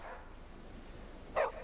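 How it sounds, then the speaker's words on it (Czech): A famous film dog gives one short, faint bark near the end, with soft room noise around it and no talking. "Ten slavný filmový pes."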